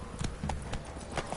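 Horse hooves clip-clopping at a quick gallop in The Witcher 3, a steady rhythmic patter of close, moderately loud footfalls running throughout.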